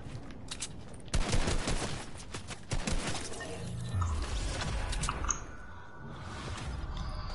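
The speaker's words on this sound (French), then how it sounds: "Ça tire, fais gaffe." Video game gunfire in Save the World plays as rapid automatic bursts and single shots, loud and close, with scattered impacts between volleys.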